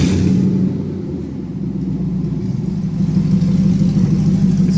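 A 1976 International Scout with a stock 5.3 V8 and no exhaust fitted, running steadily with a loud, close rumbling engine drone that rises slightly partway through.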